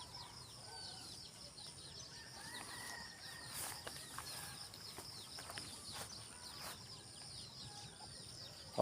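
Chickens forage on rice straw in a quiet Philippine rural setting, with faint scattered clucks and bird calls over a soft, distant background.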